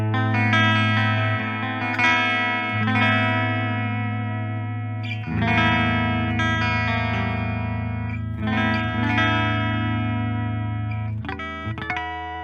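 An electric guitar plays through a Fender M-80 preamp with the treble turned fully up, giving a bright, aggressive, distorted tone. Sustained chords ring out with a change partway through, loud and steady, with no talking.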